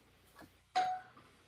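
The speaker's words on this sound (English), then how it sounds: "My doorbell." A doorbell chimes once, a soft two-tone ding-dong, faint and close indoors with a brief faint knock just before.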